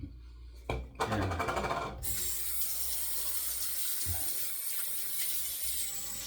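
Water is added to shaving lather being worked up with Clubman Pinaud soap for a shavette shave, a brief gurgle at first, then a steady close trickling and splashing that runs on alone.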